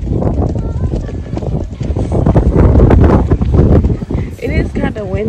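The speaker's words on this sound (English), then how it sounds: "It is kind of windy" Gusty outdoor wind buffeting the microphone near the water, a loud rumbling roar that swells and eases, with a voice speaking over it.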